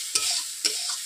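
Turmeric and chili powder masala with a splash of water stir-fried in a kadai, two distinct scraping stirs of the spatula over a soft, steady sizzle.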